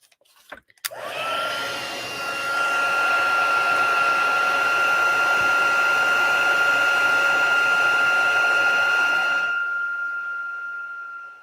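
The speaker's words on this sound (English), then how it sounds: "let me pull my heat gun in" A heat gun melts gold embossing powder on a Christmas card, starting with a click and then a loud, steady blowing roar with a high tonal whine that holds for about nine seconds before cutting off.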